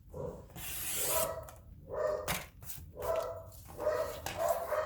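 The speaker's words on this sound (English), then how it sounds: "there goes my dogs" Corgis barking indoors, a run of sharp repeated barks in uneven bursts, fairly close and clear with faint rustling between them.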